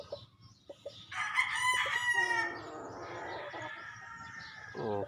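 A gamefowl stag rooster, a young backyard-bred kugon black, crows loudly nearby in one long drawn-out call, with a few soft clucks and scratching before it and a brief second squawk at the end.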